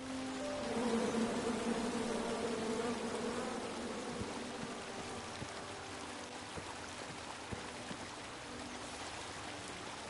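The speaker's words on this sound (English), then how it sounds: "Come at me, bees!" Angry bees in King's Quest drone in a loud, continuous swarm buzz that eases slightly over time, with faint ticking and rain-like patter underneath.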